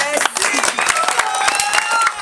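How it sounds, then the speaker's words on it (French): Applause for a church choir at a Christmas celebration, a dense patter of clapping mixed with crowd noise and bright sung or voiced tones, with talk audible over it. "Une belle main d'applaudissements à toute la chorale"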